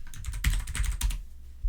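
Rapid, close computer keyboard typing, a quick burst of crisp key clicks that stops after about a second, with no talk.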